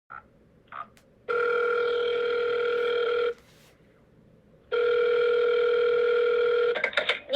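Two long electronic ringback tones sound clearly on a telephone line while a call rings through to a number, each lasting about two seconds and separated by a pause of silence, with faint clicks before and after.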